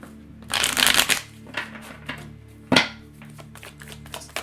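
A deck of tarot cards is riffled and shuffled up close, a long rattling burst followed by a few shorter flicks and taps.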